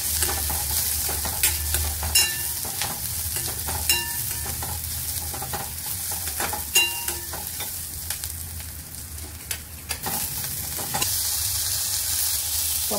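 Onions and cashews sizzle steadily in a pan on a home stove, with repeated scraping and clinking stir strokes at an uneven rhythm throughout, close and moderately loud.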